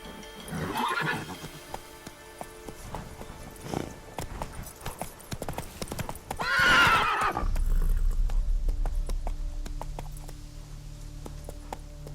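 In The Witcher 3, the horse Roach gives a loud, shrill whinny and snorts, then hooves clip-clop and pound into a gallop with a low rumbling bed of game sound, and a voice speaks briefly early on.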